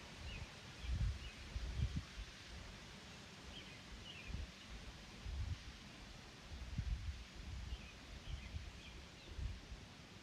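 Wind blowing outdoors during a gentle hip-stretching yoga session, heard as a faint, steady low rumble with soft gusty swells throughout, plus occasional light rustling and faint bird-like chirps in the background.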